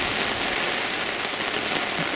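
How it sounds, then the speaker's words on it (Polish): Heavy rain pours steadily during autumn feeder fishing for bream on a river, a dense, continuous hiss of drops drumming on surfaces nearby, with no voices. "Pada jak jasny dzień."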